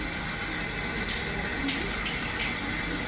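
A shower running steadily while bathing, a continuous even hiss of water at moderate loudness with no talking.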